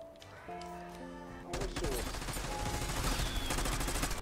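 Rapid assault rifle fire in Black Ops 6 Zombies, a loud dense burst of shots starting about a second and a half in and continuing steadily to the end, after a quieter stretch of game music and tones.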